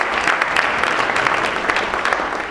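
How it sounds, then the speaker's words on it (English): Crowd applause at a town hall meeting honoring a police officer from the 67th Precinct in Brooklyn, a steady dense clapping from many hands, close and sustained throughout. "let's give him a round of applause"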